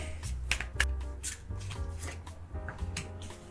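Lenormand and tarot cards drawn from a deck, close crisp slaps and riffling as cards are pulled and laid down in quick uneven bursts.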